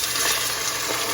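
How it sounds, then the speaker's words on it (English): Water pours steadily into a hot pan of broccoli coconut dumplings for steaming, a loud continuous gushing hiss throughout. "in goes the water"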